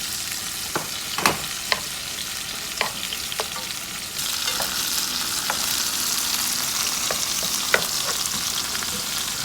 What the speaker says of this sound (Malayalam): സവാള, പച്ചമുളക് നല്ലതായിട്ട് വഴറ്റിയെടുക്കണം.